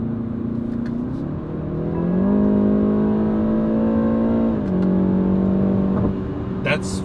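A 2020 BMW 330i G20 M Sport's 4-cylinder engine revving in Sport Plus mode, loud and close, the pitch climbing and holding in steps as it accelerates through gears, with a brief voice near the end.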